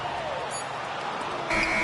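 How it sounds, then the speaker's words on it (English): A game buzzer sounds in the NBA 2K25 basketball video game, a steady electronic tone rising over continuous arena crowd noise at the end of the period. "with this 17-point advantage as the buzzer sounds"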